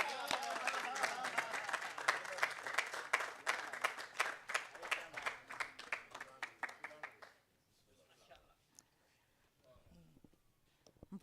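An audience at a Punjabi poetry gathering gives a poet sustained, dense applause that swells for several seconds, then breaks off into scattered claps and murmurs.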